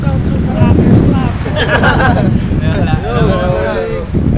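Strong wind buffeting the microphone on a boat out fishing in Manila Bay, a loud rumbling gusty roar with water sounds, while people talk over it.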